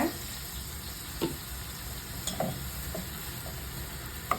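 Malai chicken gravy with milk paste bubbles and sizzles steadily in a pan, with soft, scattered pops and a constant low frying hiss.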